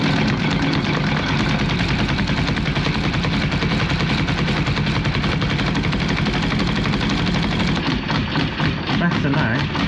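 A Jeep XJ 2.5 turbodiesel engine, with its mechanical injection pump being upgraded from 10mm to 11mm, runs with a loud, steady, rapid diesel clatter that carries for the whole stretch.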